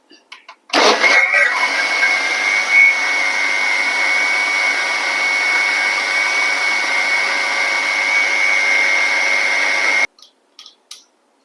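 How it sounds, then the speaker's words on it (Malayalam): A mixer grinder grinding dosa batter with salt starts abruptly and runs for about nine seconds in a loud, steady motor whine with a bright tonal hum, then stops suddenly, followed by a few short clatters. "ആവശ്യത്തിനുള്ള ഉപ്പ് ഒന്നും കൂടി അരച്ചെടുക്കുക"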